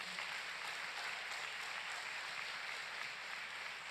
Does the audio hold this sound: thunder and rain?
no